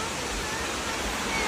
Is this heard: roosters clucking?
no